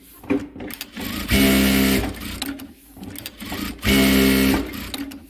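A Juki 900C sewing machine runs at top speed, around 4000, in two loud, close bursts of whirring, rattling stitching separated by quieter handling noises.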